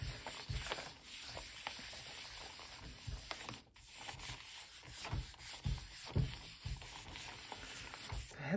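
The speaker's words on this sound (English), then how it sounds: "Then I will rub a little harder." Gold leaf being rubbed by hand onto a gel print, giving a steady close scratchy rubbing with soft uneven strokes that swell and fade over several seconds, heard alone without talk.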